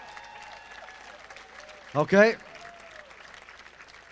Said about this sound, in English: I'd like you to clap very hard for your parents.